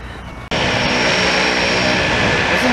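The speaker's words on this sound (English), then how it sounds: "Doesn't the plane know he's supposed to fly them to Vancouver?" A loud propeller airplane engine drones overhead near a Victoria bridge, starting abruptly and holding a steady, close, continuous roar with no talk.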